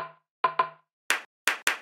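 Sharp, dry rim shot hits: two quick tonal clicks, then three brighter cracks with short reverb tails, spaced unevenly, no talking.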